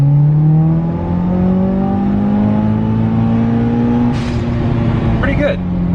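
A Mitsubishi Evo with an open dump exhaust does a loud pull, its engine note rising steadily in pitch under sustained throttle, close and strong, followed by a short sharp burst near the end.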